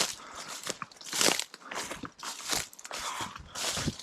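Footsteps crunch through knee-high dry vegetation on a Northern Arizona hike, loud and close in an uneven rhythm of brittle crackles with no talking.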